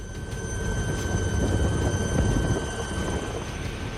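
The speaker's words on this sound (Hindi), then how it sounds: "हेलीकॉप्टर से जारी रेस्क्यू ऑपरेशन।" A rescue helicopter drones steadily overhead during flood rescue operations, its low rotor rumble continuous and fairly loud, with a faint high whine running through it.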